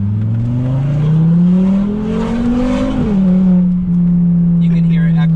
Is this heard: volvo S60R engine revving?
yes